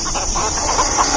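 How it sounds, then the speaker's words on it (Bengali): A rooster clucks repeatedly in a steady rhythm, close and fairly loud, used as a sound effect in a Bengali horror audio story about a black rooster, with no talk over it. "মোরগটা পাখনা নাড়তে নাড়তে মাটিতে নেমে কোঁক কোঁক শব্দ করতে করতে একদিকে ছুটল।"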